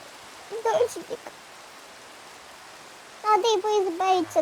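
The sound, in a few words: rain in a video game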